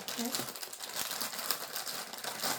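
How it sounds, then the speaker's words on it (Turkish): Plastic packaging of a bath bomb crinkles and rustles while being opened and cut with scissors, close and busy throughout with brief snipping ticks, a voice speaking over it. "önce paketini açalım. Şöyle açma yeri yok herhalde. Makasla keselim."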